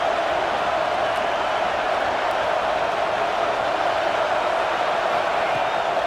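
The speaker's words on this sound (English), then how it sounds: "Oh, this crowd wants it." In the EA College Football 26 video game, a stadium crowd roars in a dense, constant wash of cheering at a third-down play, with no break through the whole stretch.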